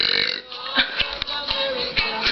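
A long, rumbling burp from a woman, close and loud, breaking into a series of throaty pulses over about two seconds with no talking.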